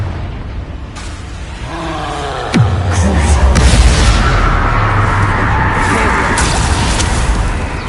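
Confringo blasting spell explosions in the wizarding video game Hogwarts Legacy, a loud boom and rushing roar followed by sustained rumbling blast noise, with a voice calling out spells.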